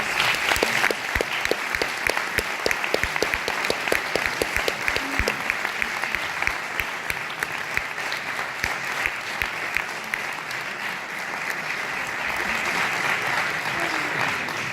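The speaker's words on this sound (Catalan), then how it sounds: "Fora aplaudiments, sisplau." An audience at an award ceremony gives sustained applause, dense clapping that carries on evenly before thinning slightly toward the end.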